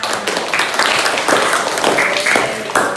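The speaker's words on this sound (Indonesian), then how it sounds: "Silakan kita berikan tepuk tangan." Classroom of students applauding after a group presentation, lively uneven clapping from many hands with a few sharper bursts, close and loud, with some chatter mixed in.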